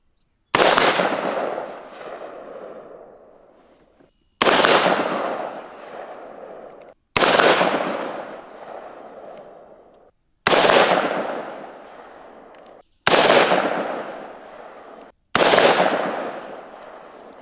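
Budget AR rifle fired at an outdoor shooting range, six loud single gunshots spaced about three seconds apart, each followed by a long rolling echo that fades before the next.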